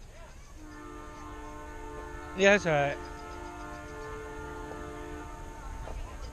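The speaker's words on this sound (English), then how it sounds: "Hey, that a train." A train hums along steadily nearby while its horn sounds in two short blasts partway through. Someone speaks briefly.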